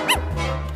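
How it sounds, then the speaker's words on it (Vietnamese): A dog lets out a single sharp, high bark or yip at the start, close by, followed by a steady low hum and room noise. "Chó ở đâu ra mà nó sủa vậy anh?"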